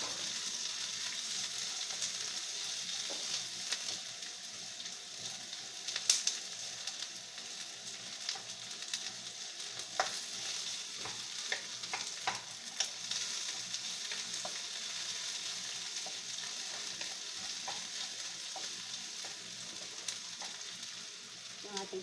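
Garlic and onion frying in a pan for tortang patola, a quiet steady sizzle with intermittent crackles and occasional stirring scrapes, continuous throughout with no talking.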